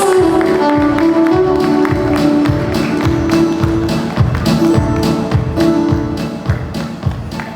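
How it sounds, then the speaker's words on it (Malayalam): Energetic audience applause at a Kerala Christian wedding reception, dense continuous clapping from a crowd, loud and sustained throughout with some voices mixed in. "നല്ല ഗംഭീരമായിട്ടുള്ള കൈയടി അടിച്ച് നോക്കണേ"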